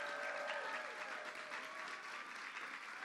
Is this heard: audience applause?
yes